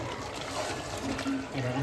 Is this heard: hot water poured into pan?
yes